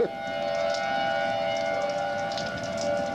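A distant tornado warning siren holds a long, steady wailing tone over faint outdoor ambience.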